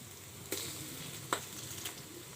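Ground spice paste of cumin, ginger and garlic frying in hot oil for a country duck curry, a soft steady sizzle broken by three brief scrapes of a spoon in the pan, no speech.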